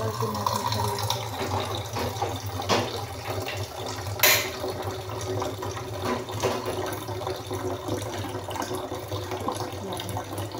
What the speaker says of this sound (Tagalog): Lagyan lang po natin siya ng tubig.